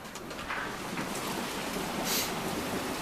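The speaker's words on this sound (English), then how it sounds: "now it's just raining." Heavy rain pours down steadily in a dense, even hiss, loud and close, with a brief brighter splash of water partway through.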